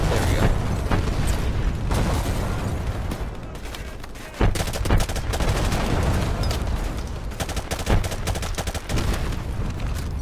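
Artillery strike explosions in Call of Duty Modern Warfare Remastered: loud, dense booms and crackling blasts rolling almost continuously, with a brief lull partway before the barrage resumes.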